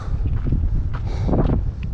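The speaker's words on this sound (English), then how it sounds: "It's windy up here, man." Steady wind on a mountain along the Colorado Trail gusts and buffets the microphone with a low, rumbling roar, continuous and close throughout.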